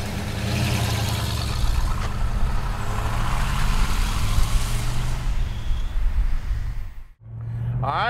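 A low-mileage 1979 Pontiac Trans Am anniversary car runs with a loud, rumbling engine while a person talks over it; the sound briefly cuts out near the end before the rumble returns.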